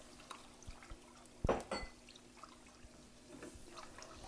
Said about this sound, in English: I'm going to go ahead and add the rest of my milk